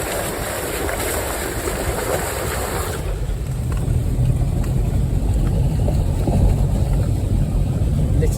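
A Can-Am off-road vehicle drives through a flooded river, producing a loud continuous rush of churning water and engine noise that grows heavier partway through, with wind buffeting the mic.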